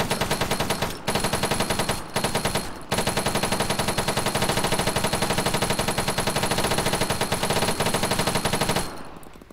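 An automatic rifle fed from a 150-round box fires in Arma 3: long, rapid, loud bursts of shots with brief breaks near the start, then one sustained stream that stops abruptly near the end.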